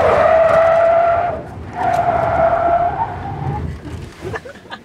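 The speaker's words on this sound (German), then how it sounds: "wenn das Auto ins Rutschen kommt" Land Rover Defender skidding during a winter driving-technique training session, with two sustained tire squeals separated by a short dip as the engine hums beneath, then fading into quieter road and engine noise.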